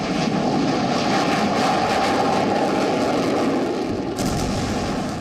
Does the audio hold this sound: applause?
no